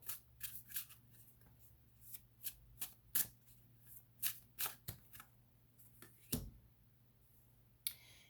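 Tarot cards shuffled softly and steadily up close, a string of quick papery flicks and riffles at an even pace over a faint low hum, with no talking.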